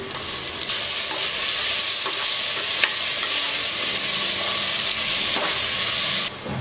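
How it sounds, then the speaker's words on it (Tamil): Chopped tomatoes stirred into sizzling onions in a pan for cauliflower biryani: a loud, continuous hissing fry with scraping stirs and soft clicks, close up and without talking. "பாருங்க வெங்காயமும் நல்லா வதங்க ஆரம்பிச்சிருச்சு இப்போ நம்ம தக்காளி போட்டுக்கலாம்"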